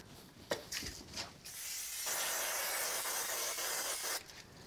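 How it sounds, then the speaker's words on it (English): A steady aerosol spray of spray glue hisses for about two seconds after a few light handling taps, then cuts off abruptly, close and fairly quiet, for card making. "I'm just going to use a little spray glue"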